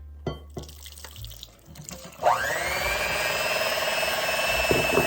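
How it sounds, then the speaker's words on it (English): Water pours steadily into a mixing bowl from close by, a continuous splashing stream that rises slightly in pitch as it fills, following a few soft clicks and knocks. "I'm just gonna go ahead and add my water in here."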